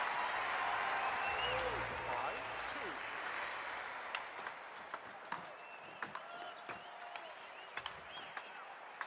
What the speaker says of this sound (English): Great smash, and the crowd love that.